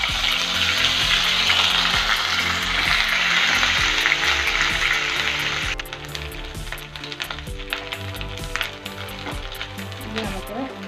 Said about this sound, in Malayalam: ഈ എണ്ണയിൽ തന്നെ നമ്മൾ ബാക്കിയുള്ള കാര്യങ്ങൾ കൂടി ചെയ്യണം. ഇഞ്ചിയും വെളുത്തുള്ളിയും പേസ്റ്റ്